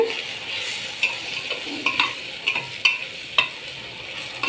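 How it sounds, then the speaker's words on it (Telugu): Spatula scraping and clacking against a pan as coriander, cumin and garam masala powders are stirred into a frying mutton curry, with soft sizzling underneath and sharp repeated knocks. "ధనియాల పొడి జీలకర్ర పొడి గరం మసాలా వేస్తున్నా ఒకసారి కలిపేసి"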